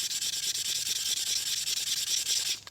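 Fine 1500-grit abrasive rubs across an ATI damper hub for a Dodge Magnum 360 crankshaft in a steady, rhythmic back-and-forth scratchy hiss, close and fairly loud.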